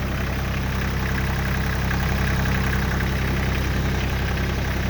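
A Kioti tractor fitted for snow removal idles close by with a steady, loud diesel rumble. The engine has a faint knocking edge and keeps an even, unbroken drone throughout, with no voices.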